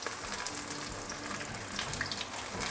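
Vietnamese chive cakes fry in hot oil with a steady, close sizzle and soft crackle that holds throughout and has no talk over it.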